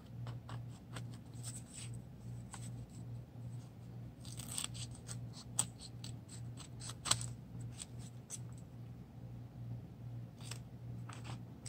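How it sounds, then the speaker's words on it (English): Scissors trim the edges of a small sheet of paper, giving a quiet, close series of crisp snips and clicks at an irregular pace over a low steady background hum. "I'm just going to trim off the edges."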